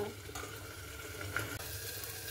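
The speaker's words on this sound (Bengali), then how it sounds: "তো মশলাটা কিন্তু আমি এবারে ঢেকে দিচ্ছি, দিয়ে একটু ভালো মতো করে কষে নেব।" Spice paste being slowly fried down under a lid in a pan for a cauliflower dish, a quiet, steady sizzle and soft hiss heard close and alone.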